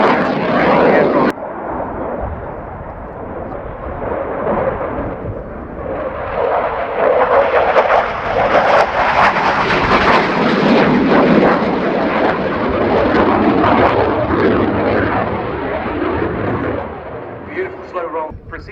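A fly-by-wire canard jet roars past at the RIAT air show, a loud sustained rumble that swells and shifts as it flies by, with a commentator talking over it.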